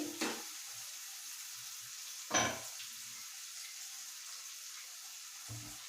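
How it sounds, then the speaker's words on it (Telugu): Onion pieces fry in oil in a pan while being cooked for a Nellore-style fish curry, a faint steady sizzle broken by two or three brief scraping stirs. "ఉల్లిపాయ ముక్కలు బాగా ఎర్రగా అయ్యే వరకు వేయించుకోవాలి"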